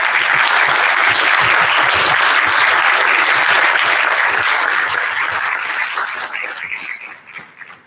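An audience at a regional spelling bee claps for all the spellers after an eighteen-round contest, a loud, dense burst of applause that holds steady for several seconds, then thins and fades out toward the end.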